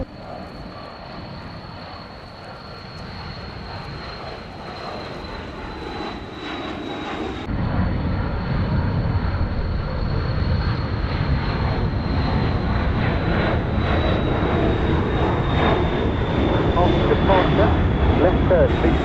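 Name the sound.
Cessna 560 XL Citation XLS jet taking off, Gibraltar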